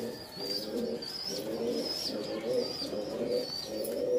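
A pigeon coos in a soft repeated rhythm, roughly five low throaty calls over a few seconds, close by with faint background noise.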